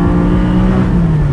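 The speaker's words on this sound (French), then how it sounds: "on a un tout nouveau moteur 4 litres qui a été développé spécifiquement pour ce modèle" Loud, close engine drone from a 2019 Porsche 718 Spyder's naturally aspirated 4-litre flat-six, holding a steady high-revving tone that dips slightly in pitch toward the end, heard with the top down.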